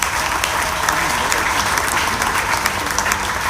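A church congregation at a Sunday service applauds, a dense and steady clapping from a crowd that holds at the same level throughout, with no pauses.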